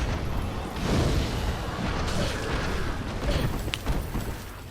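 A fire attack bursts against an enemy in Dark Souls, a low rumbling whoosh of flame with heavy booming texture that lasts several seconds, close and fairly loud with no talking.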